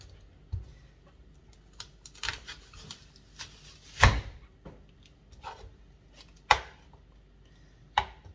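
Apple being chopped into small pieces on a cutting board for juice, a few sharp, separate knife strikes spaced irregularly with quiet gaps between them, close and fairly soft.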